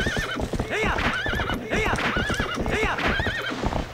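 A horse in Zelda Twilight Princess gallops with rhythmic clip-clop hoofbeats and several whinnies and neighs sounding up close over a game soundtrack.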